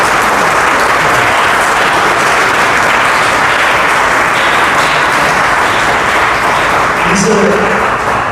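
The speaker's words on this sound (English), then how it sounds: "There's a huge round of applause for these people." A crowd at a charity event about kids sleeping outside gives sustained, loud applause for the GDYU team, a steady roar of clapping with voices and cheers mixed in throughout.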